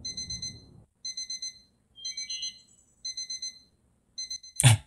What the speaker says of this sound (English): The alarm clock was just like going nuts.